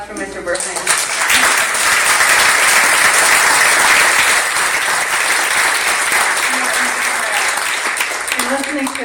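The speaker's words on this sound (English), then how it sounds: "Let's have another round of applause for Mr. Verhines." A conference audience bursts into sustained, loud applause after an address by a state water engineer, a dense wash of clapping that swells and then tapers off.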